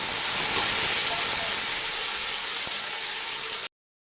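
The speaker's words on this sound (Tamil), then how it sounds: "எண்ணெய் நல்லா காஞ்சிருச்சு அதான் ஒரு கால் கிலோ சின்ன வெங்காயம்" Small shallots hit hot oil in a pan with a loud, steady hiss that runs unbroken for several seconds, then stops abruptly.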